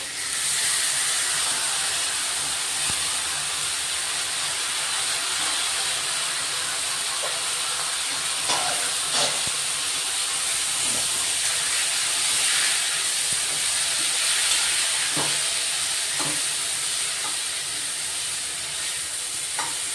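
Sprouted mung beans tipped into a hot pan give a steady, even hiss of sizzling that holds for the whole stretch, with a few faint clinks over it.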